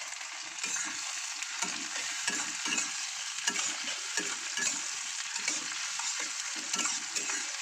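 Prawns fry in hot oil with tempering spices, a steady close sizzle broken by regular scraping stirs of the spatula throughout, with no voices.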